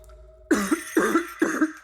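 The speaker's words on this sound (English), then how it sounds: "Your cough." Three harsh coughs in quick succession, each a rough burst with a short gap between, close and loud against a quiet background.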